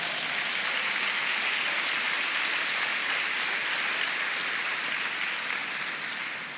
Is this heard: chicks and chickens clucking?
no